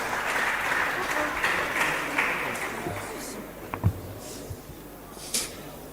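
Crowd applause at a university club's live event starts full and steady, then thins and fades, leaving scattered claps, shuffling and a few faint voices.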